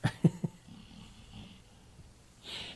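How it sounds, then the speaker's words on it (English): A few low snorting breaths at the start, then quiet soft rumbling breathing, like a dog snoring nearby, with a faint hiss at the end. "Do you hear my dog snoring here?"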